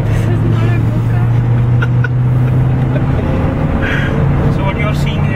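A Mercedes B-Class car cornering hard at speed on the BIC Formula 1 track, with a loud steady engine drone and road roar throughout.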